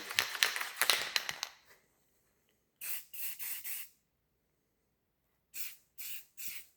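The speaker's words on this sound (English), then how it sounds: "We'll go ahead and shoot a couple coats on it." A spray gun lays a first thin coat of paint on diesel injectors. A long hissing pass with rapid sputters comes first, then several short separate bursts broken by silent gaps, close up with no talking.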